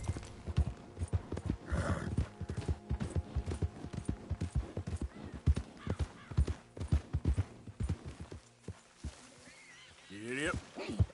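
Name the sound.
horse galloping in the Red Dead Redemption 2 video game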